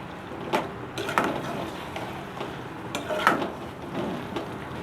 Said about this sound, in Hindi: इसको अच्छी तरह से मिक्स करेंगे और तकरीबन इसको हम 10 मिनट तक भूनेंगे।